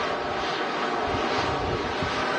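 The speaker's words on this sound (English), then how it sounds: "The A320. Coming in from Paris, Charles de Gaulle." Airbus A320 airliner arriving from Paris Charles de Gaulle, a loud, steady jet engine roar with wind buffeting the microphone, continuous with no pause or voices.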